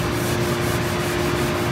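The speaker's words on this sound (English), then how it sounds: "So we're sanding this face and that edge at the same time." Wood hand-sanded with a sharp-cornered sanding block working a face and an edge at once, a steady continuous rasping rub held close and fairly loud, no talk.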